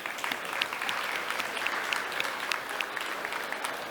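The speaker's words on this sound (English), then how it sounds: "So huge round of applause." Audience at a conference stage gives sponsors a round of applause: dense, steady clapping that fills the whole stretch with no break, no voices standing out.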